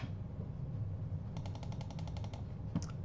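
A barrage attack lands in the Warhammer Combat Cards video game, a quick rattling series of about a dozen sharp, evenly spaced hits, then one heavier impact, all over a steady low game hum.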